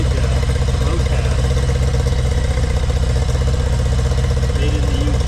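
A restored 1975 Honda Goldwing idles close by through a Motad aftermarket exhaust, giving a loud, steady, even engine rumble with no break.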